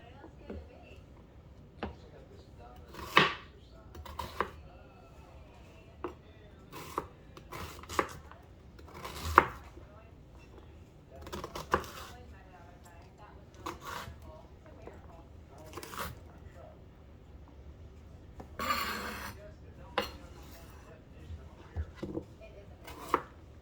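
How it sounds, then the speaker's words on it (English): An onion being chopped with a knife on a cutting board, heard as a series of irregular close, crisp chops and cuts spread across the clip, with kitchen handling noises between strokes and no talking. "Chop the onion in half, run the knife through."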